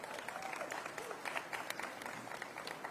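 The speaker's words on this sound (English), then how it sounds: "Somebody wanted to clap for the dynamic delegation." Steady applause from a crowd, a dense patter of many hands clapping at an even level throughout, with a faint voice briefly audible underneath.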